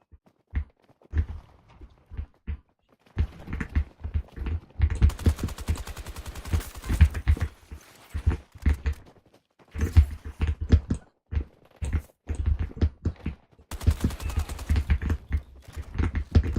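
Rapid bursts of automatic gunfire from a Battlefield 2042 firefight, loud and close, in repeated volleys with short pauses between them.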